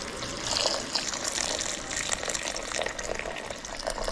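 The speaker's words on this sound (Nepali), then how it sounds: "अलिकति यो तातो पानी हाल्छु म" Hot water pours steadily onto cashews in a kitchen bowl, a continuous splashing gush with trickling texture lasting the whole stretch, close by and alone with no talk.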